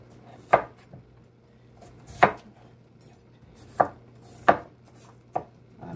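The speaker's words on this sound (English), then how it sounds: "I'm cutting them up" Knife chopping yam, carrots and pumpkin on a board for Jamaican ital vegetable soup, five or six sharp, spaced strikes with quiet gaps between, close and clear with no talking.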